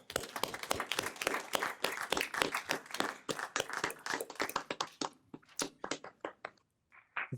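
A county board at its adjourned annual meeting breaks into applause, a close, steady burst of hand claps that thins out toward the end into a few scattered, separate claps.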